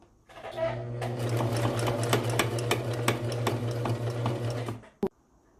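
A sewing machine stitching a baby bandana bib runs in one continuous rapid burst of about four seconds, close and loud, then stops with a single click.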